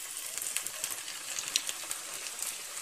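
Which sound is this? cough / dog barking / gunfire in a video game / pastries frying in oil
pastries frying in oil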